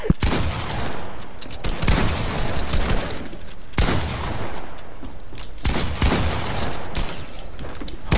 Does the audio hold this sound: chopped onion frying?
no